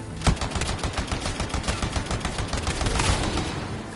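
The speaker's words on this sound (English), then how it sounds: "I shoot you down with bullets." Rapid automatic gunfire in the shooter game Anthem, a dense stream of close, sharp shots with a few heavier bangs, continuous and loud with no talking.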